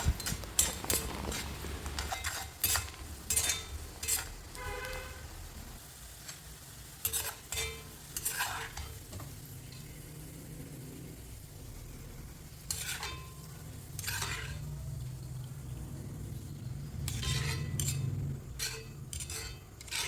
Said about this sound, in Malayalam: ഞാൻ ഇപ്പോൾ വെളിച്ചെണ്ണയിലാണ് പൊരിച്ചെടുക്കുന്നത് അപ്പോൾ ഇതാ ഉള്ളി പിന്നെ നമുക്കിത് ഒന്നും കൂടി പൊരിച്ചെടുക്കാം